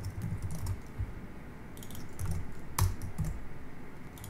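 Clicky bursts of typing on a computer keyboard while entering a name in the Kontakt 6 GUI designer, with irregular keystrokes close to the mic and no talking.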